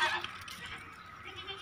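A goat at a breeder's livestock pen gives a short, nasal bleat up close, loudest at the start and tapering off, with quiet background noise after it.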